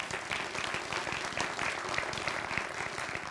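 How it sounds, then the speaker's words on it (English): Round of applause from a convocation audience at a community college gathering, steady dense clapping throughout, fairly close and sustained without a break. "So let's give a round of applause for California."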